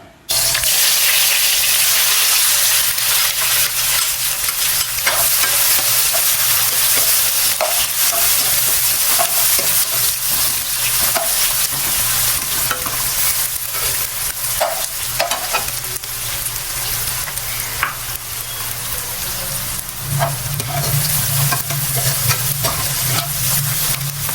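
Oil crackles and sizzles steadily in a hot pan as it heats for garlic chicken fry, a loud, dense, continuous hiss close by with scattered pops, nobody speaking.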